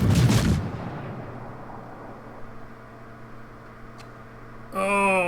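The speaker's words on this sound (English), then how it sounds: "Maybe I can shoot this destroyer." A German tier-8 Mainz cruiser in World of Warships fires a booming salvo at a destroyer, followed by a rumbling fade, a faint click, and a burst of game interface tones at the end.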